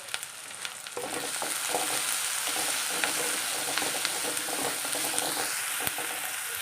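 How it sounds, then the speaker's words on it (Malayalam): Onions, curry leaves and slit green chilies sizzle with salt in hot oil for a dried shrimp curry, making a steady, close hiss with light scraping stirs throughout and no talking. "കറിവേപ്പില ചേർത്ത് കൊടുക്കാം പച്ചമുളക് ചേർത്ത് കൊടുക്കാം നമ്മൾ കീറിയതാണിത് ലേശം ഉപ്പിട്ടിട്ട് നമുക്കൊന്ന് വഴറ്റിയെടുക്കാം"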